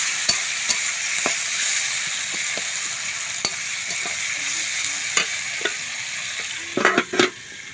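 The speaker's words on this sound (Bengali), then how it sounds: "পেঁয়াজটা খুব লাল লাল করে ভালোভাবে ভেজে নেব।" Onions frying in a pan for Bengali chicken kosha, a loud continuous sizzle with scattered spatula taps and scrapes, and a cluster of clattering stirs toward the end.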